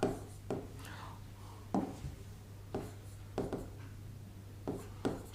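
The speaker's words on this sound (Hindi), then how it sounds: "दोस्तों अब मैं एक उदाहरण लिखने वाला हूँ और मैंने लिख दिया" Chalk or marker strokes on a classroom board, a series of short scratchy writing bursts spaced a second or so apart over a low steady hum, close and fairly quiet, no talking.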